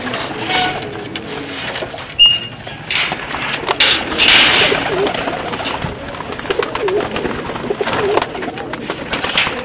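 Pigeons cooing close by at a pigeon fancier's loft, a continuous, fairly loud stream of coos with occasional clatter and wing or perch noises.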